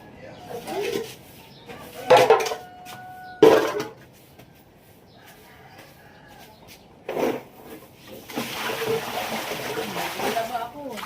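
Water is thrown out onto the ground to wash away sand, making a broad, splashy burst that lasts several seconds toward the end, amid voices, scattered knocks and bird cooing.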